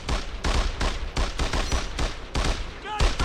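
Soldiers firing rifles in the Brothers in Arms World War II shooter, a dense fusillade of rapid, overlapping gunshots cracking in quick succession throughout.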